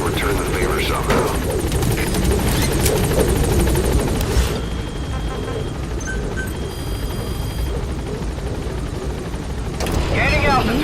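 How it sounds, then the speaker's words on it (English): A support helicopter arrives in Metal Gear Solid V, its rotor and engine making a loud, steady thumping drone throughout, dipping slightly mid-clip and swelling again at the end, under game music and effects. "Support helicopter has arrived."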